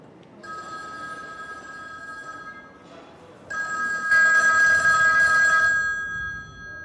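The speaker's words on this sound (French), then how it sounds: "le téléphone, une fois qu'il a fini de sonner dans la réalité, il se met à sonner dans le film." A telephone bell rings in repeated bursts within a film soundtrack, a steady electronic trill that pauses near the middle and then returns louder and fuller before fading, with no talk.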